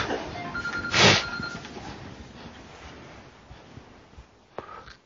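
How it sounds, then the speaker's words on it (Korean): A mobile phone briefly rings during a Bible lecture, a short electronic tone burst near the start followed by a quiet room with light background noise. "그 비행기 모드로 바꿔놓으시면 전화가 안 옵니다."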